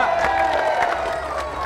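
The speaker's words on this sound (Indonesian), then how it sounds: "Tepuk tangan dulu ada etalase baru." A crowd claps and cheers at an Indonesian television charity show for a small fried-sausage stall's new display case. The applause is a steady, dense patter that holds evenly throughout.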